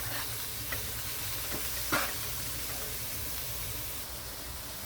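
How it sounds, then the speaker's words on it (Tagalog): Fresh shrimp paste (alamang) sizzles steadily in a pan while being stirred, a dense hissing fry with a few faint scrapes of the utensil. "Paluto-lutuin muna natin yung ating alamang para hindi siya ma medyo malansa."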